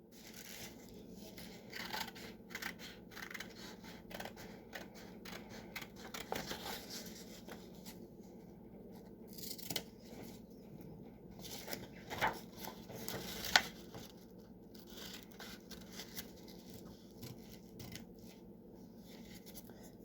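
Scissors cut paper triangles in a string of soft, quiet snips and crinkly paper rustles, irregular and close, with no talking.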